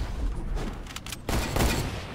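Gunfire in Fortnite cracks out in quick bursts, several sharp shots, some close and loud, others a little farther off, layered over game ambience with no talking.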